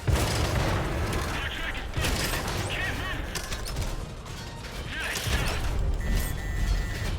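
In the console version of World of Tanks, several heavy tank cannon shots boom in bursts, mixed with mechanical clanks and crashes during a battle, the loud blasts spaced a few seconds apart.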